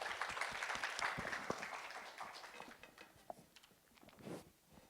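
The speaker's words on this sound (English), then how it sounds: "Give a round of applause" A room of listeners at a design thinking workshop gives a round of applause, fairly quiet and thinning out toward the end, with a few scattered claps lingering.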